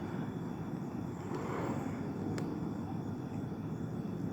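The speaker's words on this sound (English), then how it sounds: "there's another airplane basically flying out here" An airplane drones overhead outdoors in the afternoon, a steady broad rumble that holds at moderate loudness for the whole stretch, with no talk.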